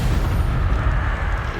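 A fire spell, Incendio, cast in Hogwarts Legacy bursts into a dense, rumbling low roar of flame that holds steady and loud for the whole short moment, with no voices over it.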